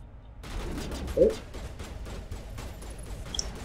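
Bursts of enemy gunfire crackle through a Mass Effect firefight, a quick run of rapid shots at moderate loudness under a player's talking.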